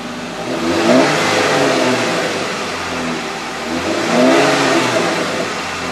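A Jeep JK engine with the stock factory exhaust revs twice up to around 1500 to 2000 rpm, then drops back toward idle, loud and close with no talk.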